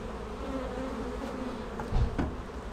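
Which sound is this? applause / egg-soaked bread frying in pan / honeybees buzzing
honeybees buzzing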